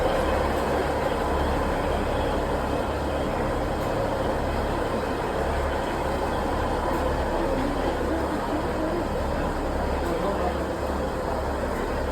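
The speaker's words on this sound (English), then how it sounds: "Harry Potter train." A steady, loud steam train rumble in Scotland with a deep low-end drone and broad clattering noise that continues without a break.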